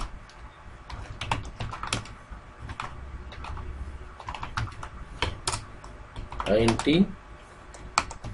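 Computer keyboard typing C++ code, a steady run of close, crisp key clicks under someone talking as he programs.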